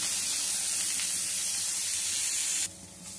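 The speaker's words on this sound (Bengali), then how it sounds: "এবারে ফুলকপিটা একটু লাল লাল করে ভেজে নেব।" Cauliflower florets fry in hot oil with a loud, steady hissing sizzle that cuts off abruptly near the end, leaving a quieter hiss.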